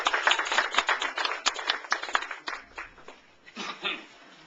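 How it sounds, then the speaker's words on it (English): Scattered applause at a business meeting, a small group clapping in uneven bursts that fade and pick up again, fairly close but not loud, with no one speaking over it. "Again, round of applause"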